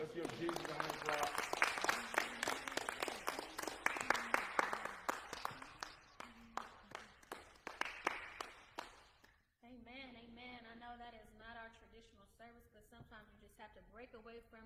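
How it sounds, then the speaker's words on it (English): A church congregation at a Sunday fellowship claps hands in a rhythmic, accented pattern that fades out, then a voice or music carries on alone. "Let's give Jesus a hand clap"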